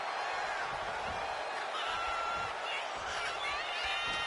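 A wrestling arena crowd in the WWE 2K25 video game roars continuously at a steady level, with commentators talking over it.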